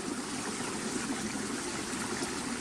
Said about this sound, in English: the creek runs right through the trail